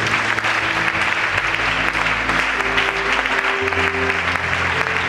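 A church congregation applauding together, a dense, steady clapping that fills the room throughout, with faint voices and a low held musical tone underneath.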